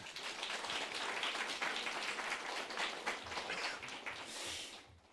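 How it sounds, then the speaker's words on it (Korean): A church congregation applauds during a Sunday service, a dense, even wash of many hands clapping for about five seconds before fading at the end, slightly distant. "이분들을 위해서 우리가 박수를 한번 쳐드립시다."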